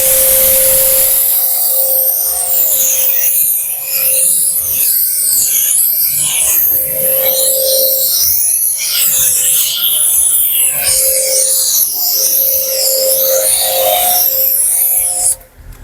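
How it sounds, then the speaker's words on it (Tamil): Snow foam sprays in a loud, continuous pressurised hiss onto a Suzuki Ertiga during a home car wash, with a steady pump drone underneath and wavering spray tones until it cuts off abruptly at the end. "கனெக்ட் பண்ணிக்கிட்டு நான் வந்து ஃபோம் அடிக்க போகிறேன்"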